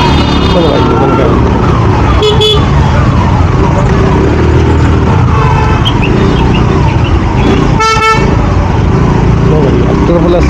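A wailing police siren in busy city traffic heard from a moving motorcycle, loud and close, with horns honking and heavy road and wind noise throughout.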